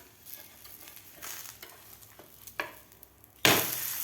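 A thalipeeth flatbread on a hot pan gives off soft scraping and light sizzling, and then a louder burst of frying hiss rises suddenly as it is flipped, close up.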